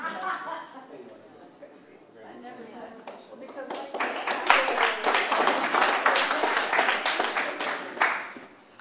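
Workshop audience breaking into applause: scattered claps with some laughter give way to a fuller burst of clapping that fades near the end. Voices are heard in the background.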